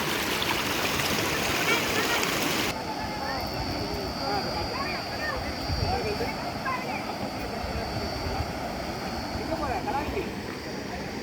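A river rushes steadily nearby, a broad continuous wash of flowing water, with voices faintly mixed into the background.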